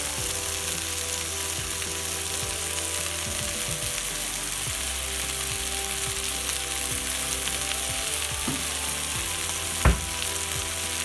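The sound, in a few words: stir-frying chicken with stir fry sauce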